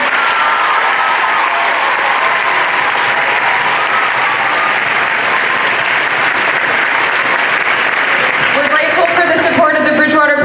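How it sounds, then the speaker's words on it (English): A large crowd in a school gym claps loudly and continuously at a choral concert, the dense applause sustained for the whole stretch, with a voice beginning to speak over it in the final second. "So huge round of applause for our custodial team."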